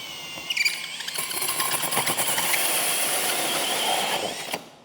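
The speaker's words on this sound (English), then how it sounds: "Let's cut some backer board." A power tool whines and grinds through cement backer board for several seconds, loud and close, rising then cutting off abruptly.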